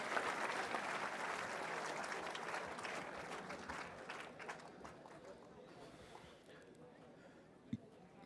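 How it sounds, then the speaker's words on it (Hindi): Audience applause at an NCC ceremony welcoming the Defence Minister, a steady, dense crowd clapping heard at a distance that slowly fades toward the end. "एक बार जोरदार तालियों के साथ स्वागत करते हैं माननीय मंत्री जी का"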